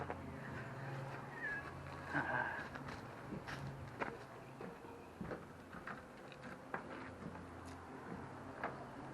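A cat meows a few times, softly and somewhat close, amid light rustling and footstep-like shuffles in a quiet room.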